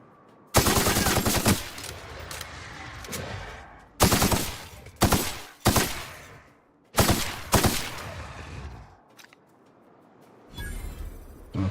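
Gunfire in The Outer Worlds comes in loud sustained bursts separated by short pauses, with rapid automatic shots close by in about five or six clusters over quiet background.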